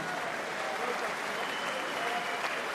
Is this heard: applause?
yes